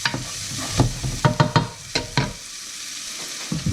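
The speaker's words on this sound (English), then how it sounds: "So now the onion's sweating off nicely" Chopped onion sweating in a pan for a mackerel fisherman's soup, giving a gentle sizzle broken by a quick run of sharp stirring scrapes before a quieter pause.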